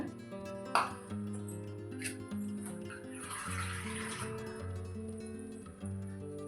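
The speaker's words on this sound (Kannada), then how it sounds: "ಸ್ವಲ್ಪ ನೀರು ಹಾಕೋಣ" A little water, about two spoonfuls, poured onto jaggery in a pan on the stove, heard as a brief soft splash and trickle under steady background music.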